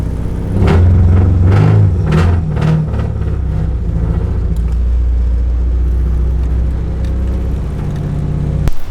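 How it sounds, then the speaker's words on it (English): A loud car engine with a full exhaust revs hard in a few sharp bursts with a deep, raspy exhaust roar, then settles into a steady rumbling idle. "For something to have a full exhaust and be this loud is literally baffling."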